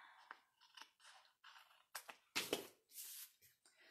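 Scissors snipping through paper during a paper craft project, a series of short close crisp cuts in an irregular rhythm, quiet and isolated.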